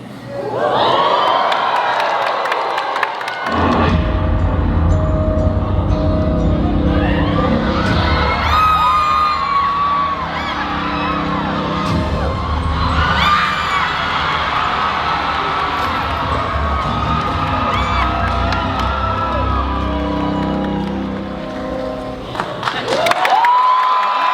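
A large convention panel crowd at MegaCon cheers, whoops and applauds loudly for a Halloween Horror Nights reveal, with sustained roaring and shouting that swells and dips over the clip.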